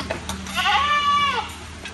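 A single goat near a door gives a wavering, nasal bleat lasting under a second. It is close and clear over a quiet room tone, with faint clicks before and after.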